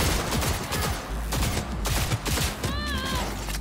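Gunfire in Cyberpunk 2077, shots fired from the hip, rattles steadily through a dense, loud mix of game noise, with a brief electronic warble near the end.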